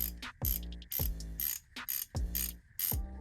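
An Icon ratcheting combination wrench, a large 32 mm size, clicks loudly and close up. Its pawl ticks in quick rhythmic bursts as the handle is swung back and forth, with no talking.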